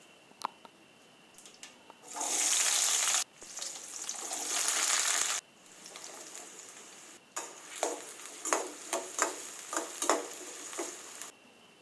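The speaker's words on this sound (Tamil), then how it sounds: "வெங்காயத்தை மீடியம் ஃப்ளேமில் அடிக்கடி கிளறி விட்டு நல்லா வேக வச்சு எடுத்துக்கிட்டேன்" Small shallots fry in oil that already holds popped mustard and fenugreek seeds. A loud, close sizzle comes in bursts, broken by pauses and scraping stirs, with no voice.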